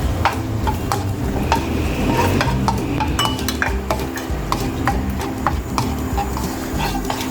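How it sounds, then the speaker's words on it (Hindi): Chicken fries in oil, sizzling steadily in a hot pan for Singaporean rice while a spatula scrapes and stirs it, clinking against the metal in a constant, close rhythm. "चिकन फ्राई कर रही हूँ।"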